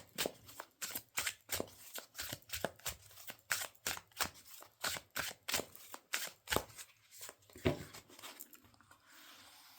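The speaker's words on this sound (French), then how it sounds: "Donc, nous allons prendre 2 cartes, faire un petit tirage, donc il se mélange bien." Close, rhythmic shuffling of an oracle card deck (Botanical Dreams oracle), a quick series of crisp papery slaps and riffles that slows and fades toward the end, with no voices.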